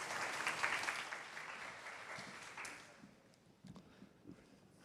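Applause at an online radiology department academic webinar as a mentor speaker is introduced, a soft, somewhat distant clapping that fades after a few seconds into quieter room noise with faint scattered sounds.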